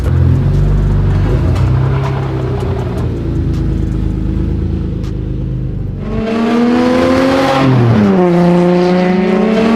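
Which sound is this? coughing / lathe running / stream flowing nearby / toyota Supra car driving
toyota Supra car driving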